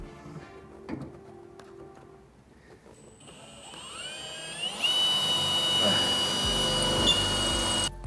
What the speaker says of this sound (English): Drill your mark with a small drill bit, and then drill it out